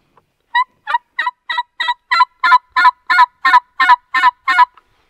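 A homemade film-can wild turkey call gives about a dozen rhythmic yelps, close and fairly loud, each clucking note evenly spaced and slightly rising in strength through the series, with no voices.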